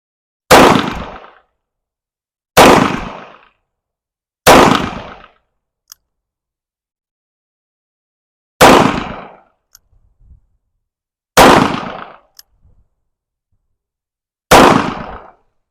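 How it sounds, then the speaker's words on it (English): Seven shots from a Taurus 692 revolver, the first three in double action and the rest in single action, each a sharp loud crack with a short decay, spaced a couple of seconds apart with silence between. "we will shoot probably 3 rounds in double action and 4 rounds in single action"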